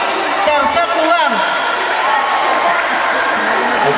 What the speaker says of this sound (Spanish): Aplausos para ellos. Tercer lugar.